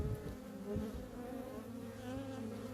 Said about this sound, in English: Shake off the bees.